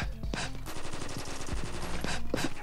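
Rapid automatic gunfire in the mobile shooter Combat Master, loud and continuous with dense bursts of shots and sharp impacts throughout, mixed with game sound effects and no talk.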